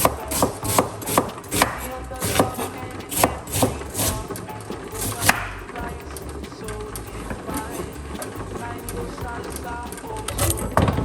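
A knife chops a medium white onion on a cutting board in a home kitchen, a quick run of close, sharp, uneven taps, bunched at the start and again near the end.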